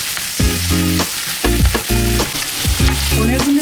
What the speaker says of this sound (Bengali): পনিরগুলি ভাজার সময় আমি বাটার দিয়ে দিয়েছি এই কারণে যেন কুকিং প্যানে পনিরগুলি না লেগে যায়।